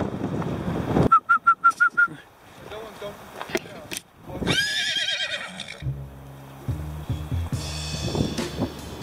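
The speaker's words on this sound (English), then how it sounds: "Wait, there's a horse coming." A horse whinnies in a quick series of rising calls outdoors in the Albanian countryside, with wind buffeting the microphone, followed by a longer neigh and low snorting.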